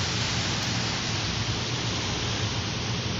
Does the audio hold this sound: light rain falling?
yes